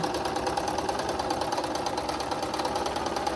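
A sewing machine runs steadily while stitching a quarter-inch seam for a picture frame flange border, a continuous even motor whir with a fine rapid needle rhythm, close and moderately loud with no talking.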